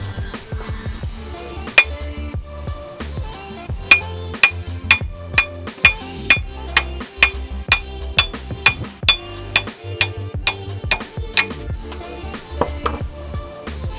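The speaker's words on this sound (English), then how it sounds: "we're just going to literally take a hammer and pound it out" A hammer pounding an old wheel stud out of a wheel hub, with sharp, ringing metallic strikes landing in a steady rhythm, close and loud, with a few irregular blows at the start and end.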